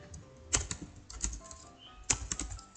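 An IP address typed on a computer keyboard, with soft, close key clicks in small irregular bursts and pauses.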